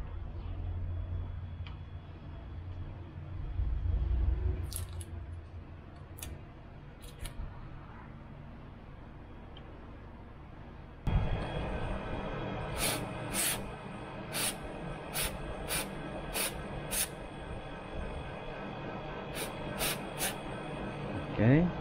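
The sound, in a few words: spraying cleaner onto a car MAF sensor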